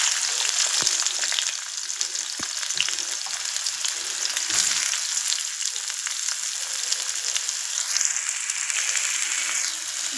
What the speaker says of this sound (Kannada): ಎಣ್ಣೆ ಕಾದಿದೆ. ಈಗ ನಾವು ಅದಕ್ಕೆ ಈರುಳ್ಳಿಯನ್ನು ಹಾಕೋಣ.